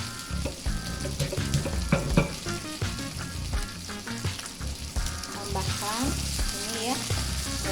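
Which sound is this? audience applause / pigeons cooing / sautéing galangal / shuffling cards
sautéing galangal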